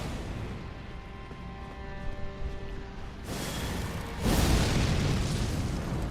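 Explosion from the Eclipse Shotel Ash of War in Elden Ring: a sustained roaring rumble that swells suddenly and then surges into a louder, broad blast near the end.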